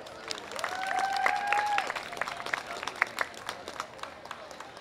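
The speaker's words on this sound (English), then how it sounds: "Let's give him a round of applause." Audience applauding a speaker at a teach-in, scattered clapping that swells and thins out, with a voice talking over it.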